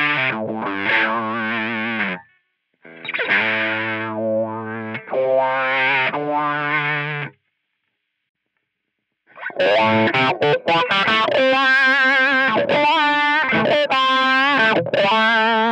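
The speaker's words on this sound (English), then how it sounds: "Do you hear the quite dramatic difference in the tonal quality of that wah now?" Electric guitar through a wah effect placed after the amp on a Line 6 Helix, sweeping distorted phrases in short bursts, then a gap of silence before a longer, denser run of chords and notes, close and loud.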